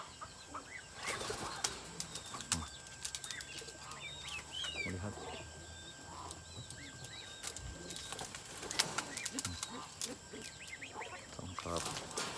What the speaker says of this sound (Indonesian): ini adalah burung peragam